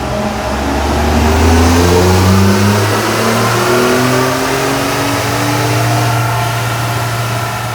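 A turbocharged car engine on a dyno revs loud and close, climbing steadily through a sustained full-throttle pull, its rising harmonics sweeping upward with a brief ease near the middle before continuing at high revs to the end.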